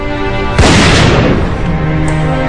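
A single loud rifle shot fired at a buffalo booms out sharply amid steady background tones, its blast decaying over about a second.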